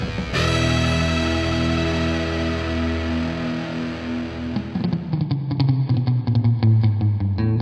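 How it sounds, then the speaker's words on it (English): An electric guitar played through a Mooer R7 reverb pedal rings out in sustained chords with a wash of reverb tail, then shifts to choppier, rhythmic strums near the end, loud and upfront. "the new reverb pedal from Mooer"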